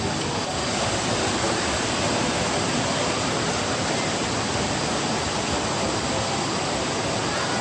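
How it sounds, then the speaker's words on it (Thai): A waterfall at Phlio waterfall in Chanthaburi pours with a steady, loud, broadband roar of rushing water that holds unbroken from start to finish. "น้ำตกสวยมาก"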